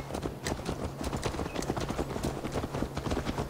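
Horse hooves clip-clop steadily in a fast rhythm as a rider travels on horseback in Assassin's Creed Valhalla, with game sounds and faint voices mixed in.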